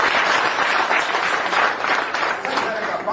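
Applause from an audience at a business plan presentation, a dense steady wash of many hands clapping at once, loud and sustained throughout with some voices mixed in.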